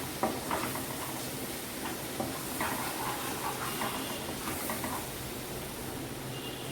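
Onion frying in a pan with spice paste over a low gas flame, a steady close hiss of sizzling oil broken by soft, irregular stirring clicks.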